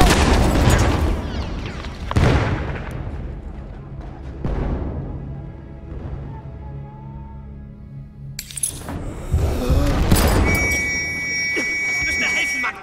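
A grenade explodes in Battlefield 1, a heavy boom with a long rumbling decay, followed by further loud blasts and battle noise amid shouted voices.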